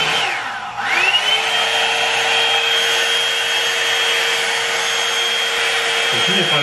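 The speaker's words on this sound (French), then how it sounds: "c'est parce que c'est un séchoir, genre brosse" A hair dryer brush runs continuously close by, its whine sweeping up in pitch as it powers on and then holding a steady airy drone to the end.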